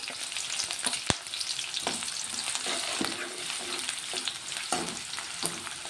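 Onions and green chillies fry in hot oil with a close, continuous sizzle, punctuated by a few sharp spoon taps and stirring scrapes.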